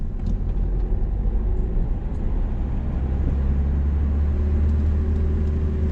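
A car pulls away gently in second gear after the clutch is eased out during a driving lesson, its engine humming low and steady close by with a smooth, unhurried rise.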